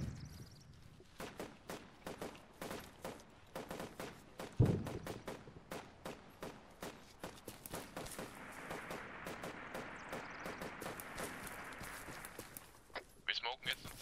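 Gunfire in the tactical shooter Arma 3, with repeated sharp shots and bursts across a busy firefight, heard under and between people talking over radio.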